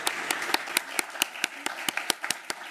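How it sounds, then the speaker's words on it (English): Scattered applause from a small city council meeting audience, individual claps distinct and uneven, moderately close and fairly quiet, running steadily for a few seconds. "So if we could give Sarah a round of applause for 28 years"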